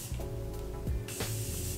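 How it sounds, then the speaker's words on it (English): Facial mist sprayed onto a face after makeup, a couple of short, close hissing spray bursts, the second starting near the end and carrying on. "Let me just spray my face a little bit just to get rid of all the powdery look"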